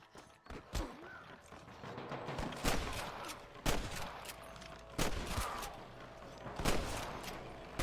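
Repeated gunshots ring out in a Red Dead Redemption shootout, sharp cracks arriving in irregular bursts with a few close, loud reports standing out over a steady rumbling background.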